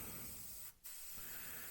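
An airbrush hisses in a fine, steady spray while painting a 1/35 Bf109 G6 model cockpit. The close, continuous hiss breaks once, briefly.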